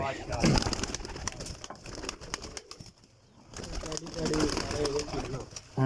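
Paired pigeons coo in a loft, with low coos and some wing flutters under someone talking nearby.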